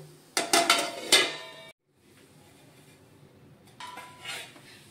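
Zunka, a thick Maharashtrian gram-flour dish, stirred in a pan: a burst of loud close metal clinks and scrapes, a short pause, then a softer low shuffle and a few more utensil knocks, with no speech.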